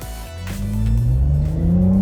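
A Porsche Macan GTS SUV engine pulls hard through a downshift into a right-hand bend, a loud, rising in-cabin drone that climbs steadily in pitch over two seconds.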